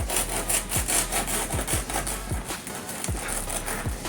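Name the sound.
crunchy crust of no-knead artisan bread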